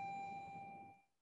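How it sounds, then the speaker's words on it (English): A new bell rings once in a classroom, a clear sustained tone with bright overtones that holds steady and then fades out within about a second. "Oh, that's a new bell."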